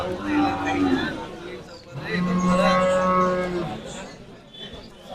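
Cattle at a cattle market moo loudly, two long low calls, while buyers and sellers chatter nearby in the background.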